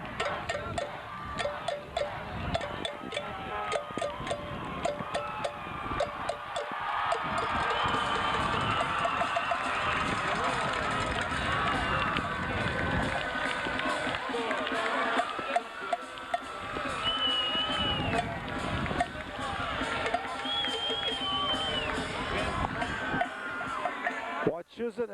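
Crowd at a high school football Super Bowl, Wachusett's undefeated 12-0 season win over Northampton, roaring and cheering continuously at a steady, loud level, with clanging cowbells and scattered shouts throughout.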